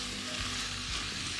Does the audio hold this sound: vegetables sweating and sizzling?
yes